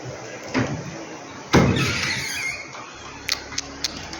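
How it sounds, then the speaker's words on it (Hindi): A door opening at a forest mosque, with a sharp burst of movement and a scraping, creaking sweep followed by a few small knocks, close by. "मीर साहब दरवाज़ा खोल सकते"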